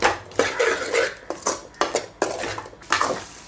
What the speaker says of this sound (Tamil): ஒரு நிமிஷம் எண்ணெயில் நல்லா வதக்கிக்கலாம்.